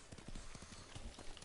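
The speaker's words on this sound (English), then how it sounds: "Horse jumps over when I jump on it" Horse hooves clop in a quick, uneven patter as a rider mounts and the horse hops, in Ghost of Tsushima, close and fairly soft under low background sound.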